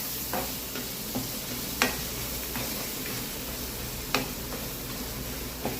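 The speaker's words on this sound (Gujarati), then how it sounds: "લો ફ્લેમ પર જ આપણે આ કેપ્સિકમ ઉમેરવાના અને એને સોટે કરવાના અરાઉન્ડ 2 થી 3 મિનિટ" Capsicum sautéing on a low flame hisses in a steady sizzle, with a few sharp spatula clicks against the pan standing out every second or two.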